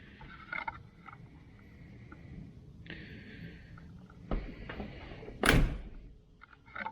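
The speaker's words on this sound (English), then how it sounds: "Doors shut good." A 1934 Buick's car door shuts with a solid thunk partway through, a sharp broadband slam that stands out over steady outdoor background hum and faint tonal noise.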